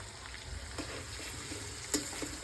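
Tomatoes frying in oil in a pan for a chicken gravy, a steady close sizzle with a couple of faint stirring clicks and no talk.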